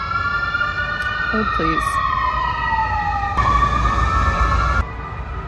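A loud emergency siren wails nearby, its pitch sweeping down and back up, while someone briefly speaks over it.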